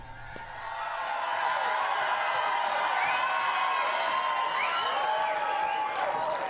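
Crowd of supporters at a Michael Bloomberg campaign rally in Florida, a steady roar of cheering and whooping that swells after a quiet start and holds loud throughout, with scattered shouts rising above.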